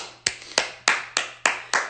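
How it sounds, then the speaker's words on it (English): Six crisp, close handclaps from a single person at a comedy show, evenly paced about a third of a second apart, with no talk over them. "Everybody, give Cleto a round of applause."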